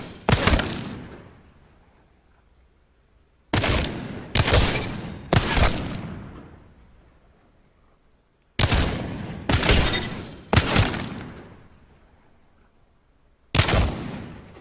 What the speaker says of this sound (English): Wingman crouch fire is going to be a lot more accurate than standing up